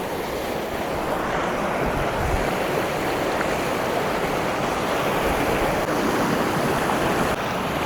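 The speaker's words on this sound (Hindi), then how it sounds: "पानी का बहाव बहुत ज़्यादा है।" A fast, heavy river in Kashmir rushes steadily, a loud, dense roar of flowing water with no breaks, mixed with some wind buffeting.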